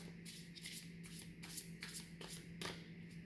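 A deck of tarot cards being shuffled by hand in a repeated riffling rhythm, close and fairly quiet, with a steady low hum underneath and no talking.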